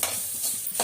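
Cooked rice being stirred into frying vegetables in a pan gives a short, soft scraping stir over a light sizzle, close by and with no talk.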